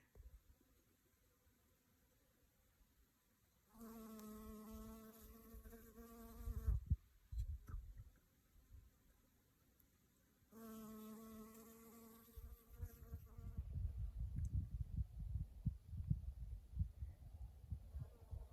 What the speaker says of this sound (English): the bees, there they are, they're working it